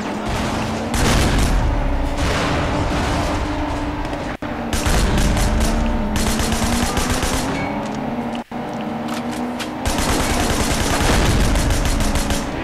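Video game gunfire from Sleeping Dogs, rapid sustained volleys of shots with booming impacts and engine roar, loud and continuous across the stretch with two brief breaks.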